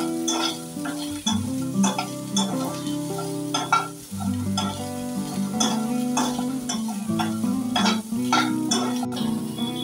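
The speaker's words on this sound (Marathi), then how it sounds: "एकीकडे आपण भाज्या फ्राय करायला घेतल्या आहेत" Cauliflower and mixed vegetables fry in oil for a dhaba-style veg Kolhapuri, a steady close sizzle broken by repeated clinks and scrapes of a spoon stirring against the pan.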